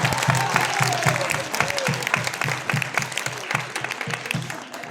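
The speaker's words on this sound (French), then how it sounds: "On les applaudit." An audience at an association talk in Layrac claps warmly and continuously, a dense, even round of applause from a roomful of people.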